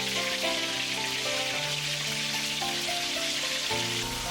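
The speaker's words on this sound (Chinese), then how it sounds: "把八爪鱼放入蛋糊中，裹上一层蛋糊，再投入油锅中" Batter-coated octopus deep-frying in a wok of hot oil, giving a dense, steady crackling sizzle that stays loud throughout while music plays underneath.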